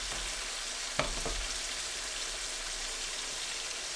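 Meat fries in oil in a pan, giving a steady, even sizzle throughout, with a brief stirring scrape near the start.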